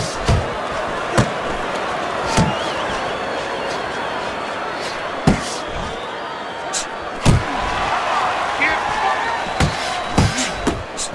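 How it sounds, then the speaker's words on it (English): Punches land in the boxing video game Fight Night Champion as a series of sharp, separate thuds and slaps at irregular intervals, some paired in quick combinations, over a steady crowd and arena ambience. "A good combination punch by Big"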